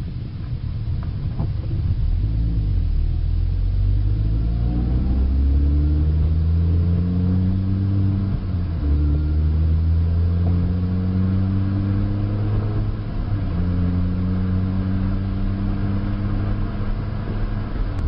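A manual transmission car pulls away and accelerates, its engine note climbing repeatedly in pitch through successive gears, with drops between shifts, steady and fairly close inside the cabin.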